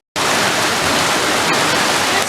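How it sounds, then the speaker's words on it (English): Heavy thunderstorm rain pours outside in a loud, dense, steady hiss that starts abruptly and continues without a break. "pouring and thundering"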